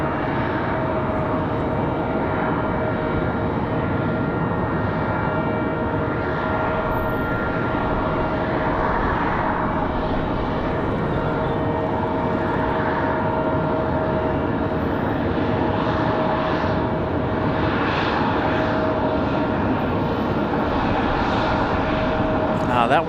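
Airliner touching down on the runway at Raleigh-Durham International Airport on a windy day, a steady broad roar of jet engines and wind rushing throughout the recording.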